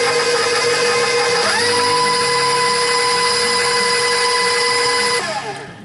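Electric hand mixer whirring steadily as it beats an egg into peanut butter cookie dough, a loud continuous motor hum with a brief shift in pitch partway, then winding down near the end.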